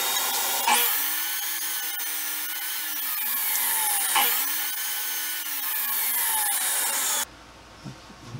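A mesquite burl and resin wood blank being trimmed to square width on a saw, giving two long, loud, steady cutting passes with a rising whine as the blade bites. The cutting stops abruptly near the end, leaving quiet shop noise.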